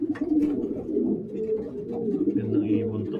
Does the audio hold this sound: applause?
no